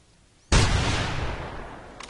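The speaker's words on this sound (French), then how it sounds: "Je vais attendre que les deux autres tirs se fassent." A single loud, sharp gunshot bursts in a video game and then decays into a long rumbling tail.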